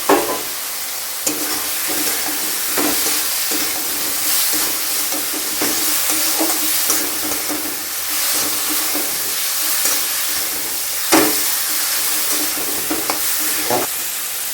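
Fried egg added to a sizzling pan while cooking an egg dish: a steady, loud, close frying hiss with scattered stirring clicks and scrapes running throughout, no talking.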